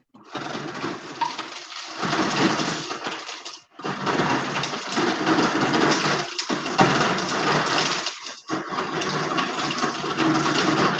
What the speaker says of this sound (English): I'm here just getting ice and water.